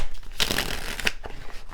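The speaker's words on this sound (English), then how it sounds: "Sorry for the shuffling," Tarot cards being shuffled by hand, a few quick riffling bursts of papery flutter and snaps, close and clear, with brief pauses between them.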